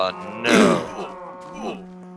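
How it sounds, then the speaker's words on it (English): Cows mooing in Minecraft, two drawn-out moos close by, the first louder and longer, the second shorter and fainter, with no talk. "Why is the cows annoying me?"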